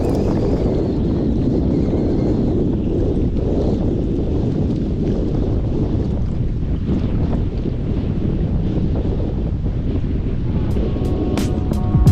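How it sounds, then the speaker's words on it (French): Strong wind buffets the microphone in a steady, loud roar while out on a kayak, with water lapping faintly beneath and a few brief clicks near the end. "Je vous ai dit qu'il ventait."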